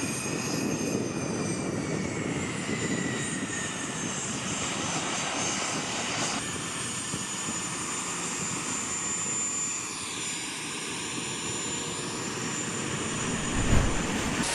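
An Eclipse aircraft's turbine engine spools up with a broad, steady rushing roar and a thin high whine that holds, ending in a brief louder thump near the end, with no talking.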